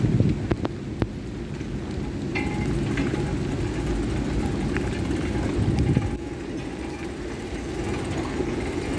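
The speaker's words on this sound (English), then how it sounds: "It's raining, but it's not thundering and lightning." Steady rain falls at Kingston Mills Lock on the Rideau Canal, a constant broad hiss with a low rumble underneath and a few faint knocks and clicks.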